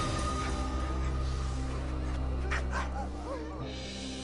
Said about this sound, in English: sled dogs have been a symbol of wealth here and a necessity for survival